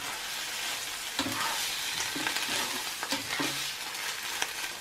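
Tomatoes and tuna fry in a pan and are stirred through, a constant loud sizzle with periodic scraping strokes of a utensil close up, no talking.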